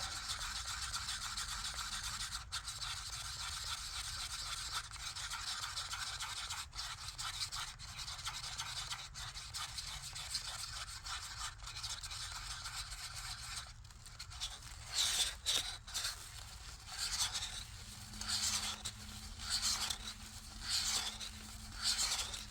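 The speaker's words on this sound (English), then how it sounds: "Scraping it around, making sure there's nothing stuck to the sides." A stick scrapes around inside a small cup, mixing white paint, giving close, faint, steady rubbing and scraping that becomes choppier and more rhythmic toward the end.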